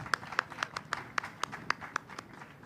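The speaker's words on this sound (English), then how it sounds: "Round of applause." Sparse, fairly quiet clapping at a boxing press conference, about ten distinct sharp claps in a steady rhythm, as if from only a few people rather than a full crowd.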